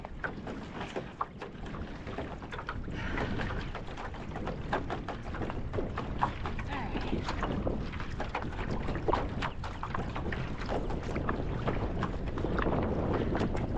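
Steady wind buffets the microphone outdoors during a training run, a continuous rumbling roar with gusty crackle that stays loud throughout, with no voices.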